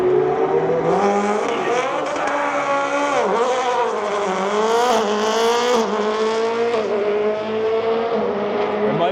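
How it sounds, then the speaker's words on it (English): A Ferrari 599XX track car launches hard on a California mountain road, its V12 screaming loud and close as it revs through rising gear sweeps, a brief dip between shifts, then keeps climbing in pitch for several seconds. "It might be a track car, but it still launches like a rally car."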